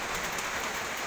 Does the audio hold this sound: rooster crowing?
no